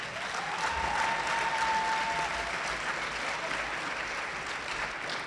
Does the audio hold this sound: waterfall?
no